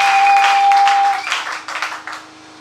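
A church congregation applauding, a loud steady wash of clapping that thins and tapers off over a couple of seconds, with a sustained organ-like tone underneath at first.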